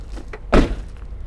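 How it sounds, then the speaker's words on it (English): A single solid thunk of a heavy truck cab door swinging shut during a pre-trip inspection, one short loud impact with a brief rattle tail, alone with faint background noise. "You want to then close the door."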